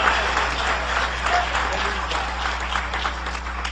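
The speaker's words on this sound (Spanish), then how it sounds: "Dale ese aplauso de poder a Jesús." Steady applause from a congregation at a church service, a dense wash of clapping that holds evenly for a few seconds over a low hum.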